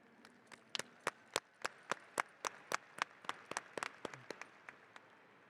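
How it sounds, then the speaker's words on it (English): Graduates at a 2022 high school graduation ceremony clap for their families, a scattered run of loud, distinct individual claps with a sparse, uneven rhythm rather than a dense roar, with no talking over it. "Graduates, please give a round of applause and thank you to your families and the people who assisted you"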